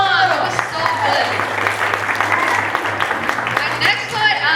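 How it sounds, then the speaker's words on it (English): Audience applause after a poem at a poetry night, a steady wash of clapping with crowd voices mixed in, fairly loud and continuous throughout. "Let's give another round of applause to that poem."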